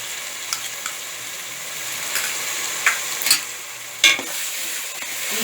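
Ginger garlic paste fries in a pan with softened tomato for Chettinad-style mutton biryani, a steady close sizzle broken by a few sharp scraping clinks of stirring.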